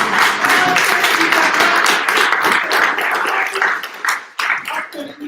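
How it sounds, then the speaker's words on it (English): An audience at a startup weekend pitching final in Chisinau claps in a dense, steady burst that thins and fades toward the end. "A big round of applause."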